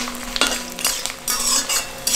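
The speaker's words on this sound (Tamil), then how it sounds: "இதையும் சேர்த்து வதக்குங்க கொஞ்சம்" Ginger and garlic sautéed in a pan while being stirred, with a close, bright sizzle and repeated quick scraping strokes of a utensil against the pan, and no one speaking.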